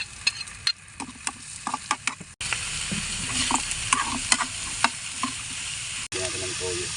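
Garlic, ginger and onion sauté in a hot pan for adobo, with steady sizzling and frying broken by repeated scraping stirs. The sound is close and moderately loud, with no talk.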